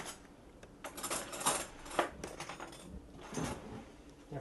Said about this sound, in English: I'm going to go ahead and pull the spinach out and stir it. Get a stirring spoon